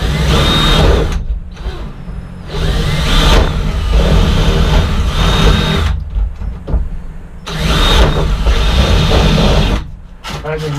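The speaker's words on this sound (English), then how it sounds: "I think I'm still going to use the Sawzall." A Sawzall reciprocating saw cutting a roof vent opening in a teardrop camper, running in loud bursts of several seconds separated by brief pauses, close and harsh with a buzzing whine.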